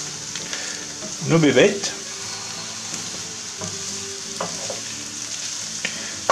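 Ciambotta, a Corsican vegetable stew, cooks slowly in a sauté pan with a steady, close sizzle throughout. A brief spoken phrase and a few light clinks of utensils sit on top of the frying.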